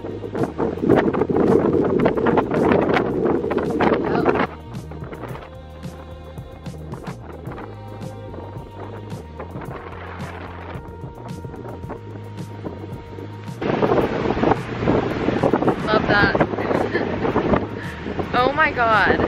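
Strong, roaring wind from Hurricane Florence at the beach buffets the microphone in heavy gusts, easing for a while before surging loud again.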